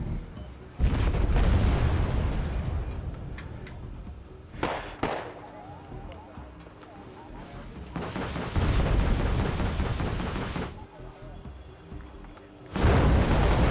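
Rocket pod salvos from Mi-24D attack helicopters in a combat video game, bursts of loud booming explosions coming in several waves, with a voice talking over the quieter gaps.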